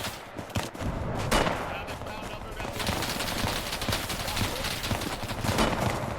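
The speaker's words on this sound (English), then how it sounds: "nearly gets lit up by the machine gun here" Sustained machine gun fire in a realistic milsim infantry firefight game, dense overlapping bursts and rapid rounds, loud and continuous, with a brief spoken word at the start.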